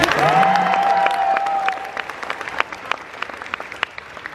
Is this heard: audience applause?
yes